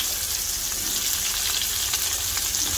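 Onions sizzle and fry steadily in a pan with browned garlic, a dense continuous crackle close by with faint stirring, no talk.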